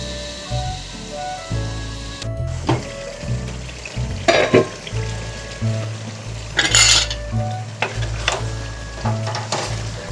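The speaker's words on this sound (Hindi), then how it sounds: "मसाला हमारा अच्छी तरह भुन गया है" Masala and potatoes fry in a pan with a close, steady sizzle, broken by a few sharp clatters and scrapes of a spoon stirring against the metal.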